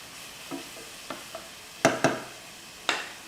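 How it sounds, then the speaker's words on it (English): Onion and garlic cooking in a pan for a simple Italian dish, heard as a few sharp spoon scrapes and clinks with a soft sizzle underneath, close by with no talking. "Onion and garlic, we're only going to cook them until the onions start to get translucent."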